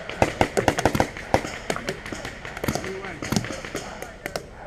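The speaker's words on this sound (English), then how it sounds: "Dude, you give me cover fire." Paintball guns firing cover fire outdoors, a close, rapid string of sharp pops and cracks in uneven bursts with people talking over them.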